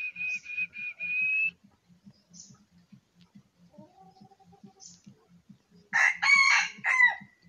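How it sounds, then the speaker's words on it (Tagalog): Labuyo rooster crowing in the open, a brief call at the start and a louder, ragged crow near the end, over a steady low ticking pulse and faint chirps. "May katapat na tilaok."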